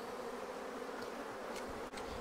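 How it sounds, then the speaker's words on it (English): Honey bees buzz at a hive just back from almond pollination in California, a faint, steady swarm drone with no voices. "That means it's super full of bees, I think."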